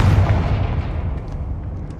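The Confringo fire spell in Hogwarts Legacy lands with a loud, close booming burst, a heavy low-end blast that rolls off into a decaying rumble with faint crackles.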